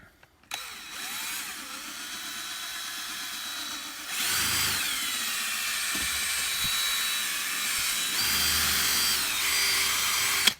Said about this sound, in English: we're using our long extension on our handy dandy DeWalt so that we can get in here